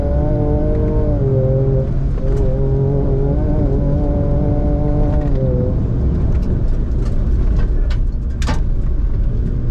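A Ford Ranger Raptor pickup, built like a long rally car, runs with a steady, loud engine drone, its pitch stepping as the revs shift, with faint clicks and rattles near the end.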